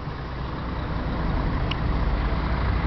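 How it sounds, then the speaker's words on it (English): A city bus in Florence, Italy rolls along with a steady, loud low engine rumble and road noise that holds throughout, no voices over it. "The bus is moving."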